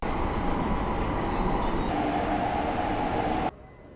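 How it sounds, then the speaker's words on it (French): A Paris metro train pulling into a station, a loud steady rumble of wheels and carriages that cuts off abruptly near the end, leaving quieter platform ambience. "le métro il vient d'arriver"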